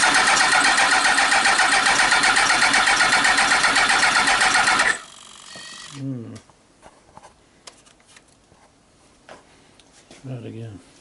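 A carbureted Yamaha R1 motorcycle engine runs loud and rough for about five seconds, then cuts out abruptly, leaving quiet clicks and handling noises while someone speaks briefly.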